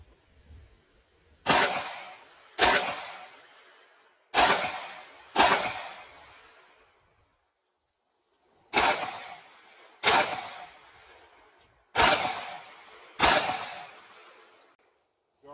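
Eight slowed-down gunshots from a Staccato HD pistol, each a sharp broadband crack with a drawn-out decaying tail, spaced roughly one second apart in two groups of four separated by a brief pause, loud and clear with no talking.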